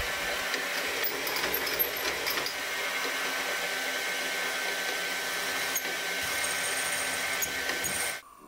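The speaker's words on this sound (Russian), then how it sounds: "Сверлю отверстия для бонки." A drill whines steadily at moderate volume for several seconds while drilling holes in metal for a folding knife, then stops abruptly near the end.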